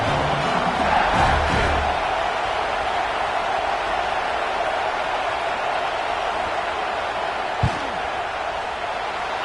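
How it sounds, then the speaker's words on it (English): A large college football stadium crowd roars steadily during a Florida vs LSU field goal attempt, a dense, continuous wall of noise with a brief thump near the end, and a commentator talking over it. "This crowd trying to do its part to get inside the kicker's head."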